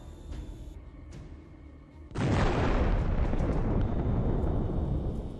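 A Ukrainian drone strike hits a Russian position: a sudden loud explosion bursts in after a quieter stretch, then a dense, sustained roar of blast and debris fills the rest, with no voices over it.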